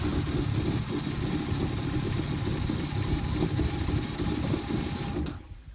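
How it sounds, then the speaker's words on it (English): A Honda Aquatrax jet ski engine runs out of the water during an oil change, giving a steady, loud mechanical drone that holds evenly for several seconds and then cuts off abruptly near the end. "I'll run it again to be sure the new oil is cycled through the engine."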